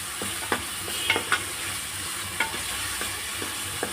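Ginger frying in a pan for gongura chicken curry gives a continuous sizzle with light, irregular spatula taps and scrapes, close by and with no talk.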